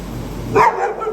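A puppy lets out a single short, close bark or yip over quiet background noise.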